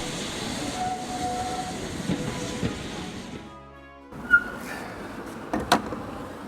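A steam train rumbles along the rails with a steady rolling drone, then quiets, followed by a few sharp clanks and squeals.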